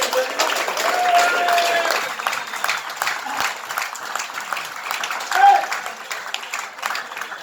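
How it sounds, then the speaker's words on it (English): Applause for the organising committee at a cricket club farewell event, an audience clapping in a moderate, uneven burst with voices and a few calls mixed in. "let's give the committee a big round of applause"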